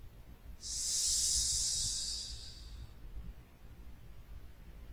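A forceful, breathy hiss from a person exhaling during a qigong breathing exercise in the desert, rising quickly and holding steady for about two seconds before fading, heard alone over faint background noise.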